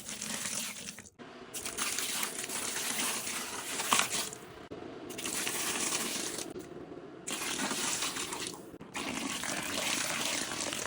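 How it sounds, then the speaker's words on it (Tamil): Hot water pouring steadily over pooja vessels to soak them, a continuous close splashing stream with brief pauses between pours, no talking. "மூங்குற அளவுக்கு நான் சுடுதண்ணி விட போகிறேன்"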